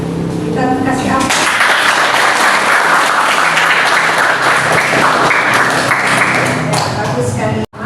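A classroom full of students bursting into loud, sustained applause with dense clapping that fills the room for several seconds and then cuts off abruptly, with a voice speaking briefly at the start.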